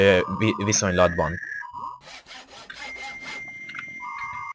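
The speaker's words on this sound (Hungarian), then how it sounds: "régi betárcsázós modemnek a hangja van beállítva rá" Phone ringtone set to an old dial-up modem sound: warbling tones and hissing, scratchy static bursts, with screeching pitches that jump and hold, heard fairly close beneath someone speaking.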